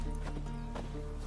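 Roach, the horse in The Witcher 3, trots in a short burst of a few close, quick hoof clops over a low steady background hum.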